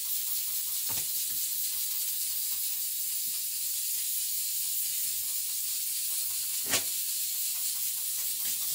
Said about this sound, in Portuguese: Puxar moscar com fogo para tirar os pelos.